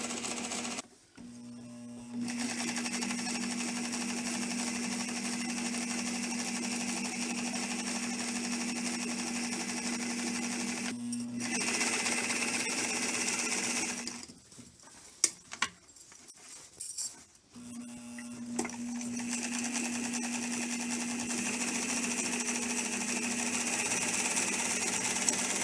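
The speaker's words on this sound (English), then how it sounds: "We're zigzagging carefully around the pocket." A sewing machine zigzag-stitching around a pocket on a little girl's dress runs in steady mechanical bursts, pausing briefly around 2, 11 and 15–18 seconds before resuming its even hum, close and alone.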